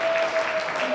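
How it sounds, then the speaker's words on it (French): Spectators applauding a point in a padel quarter-final at the Paris Challenger 2018, a brief moderate patter of clapping with a steady tone running underneath. "Applaudi, hein, bah oui,"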